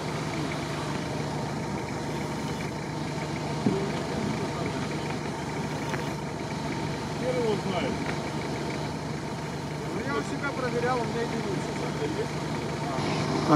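Off-road vehicle engine labouring steadily while towing another vehicle over rough ground, a continuous low droning strain with faint rattles, heard under nearby voices.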